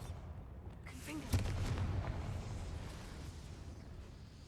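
In Hogwarts Legacy, the Confringo blasting spell is cast with a sudden fiery burst that swells into a rumbling explosion and then trails off into a sustained roar; game voices come before it.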